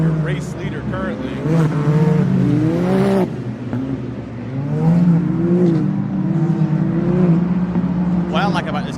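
Side-by-side UTV race machines such as Can-Am X3s, Yamaha YXZs and Polaris RS1s crossing the start-finish line at a Durhamtown dirt race, their engines rising and falling in loud revving passes while a commentator talks over them.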